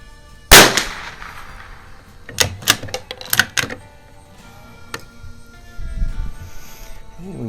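Rifle shots from a Lakefield 92 firing high velocity ammunition: one loud sharp crack, then a quick cluster of four or five sharper reports, and a fainter later shot, each with short echoing decay.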